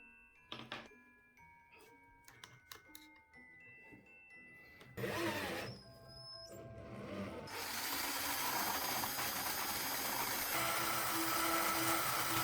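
A slingshot bullet held in a screwdriver is turned against metal, starting with scattered clicks and taps, then a rough scraping grind that becomes a continuous whirring buzz for the last five seconds, close and moderately loud.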